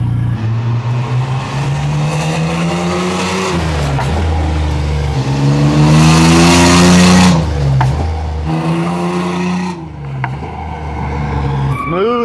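A Ford Ranger truck with a 4.0 engine, big tires and a spool rear end revs loudly and close, its engine note climbing and dropping several times before it eases off near the end.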